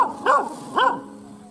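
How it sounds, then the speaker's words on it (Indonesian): Police dogs bark at dusk during an investigation, two loud, close barks spaced about half a second apart, alone with no talk. "anjing-anjing polisi mulai menggonggong karena mereka menemukan sebuah petunjuk"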